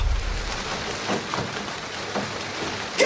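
Rain as a sound effect in a Commander card game session: a soft, steady patter of falling rain with a few heavier drop clusters, faint and continuous with no voices.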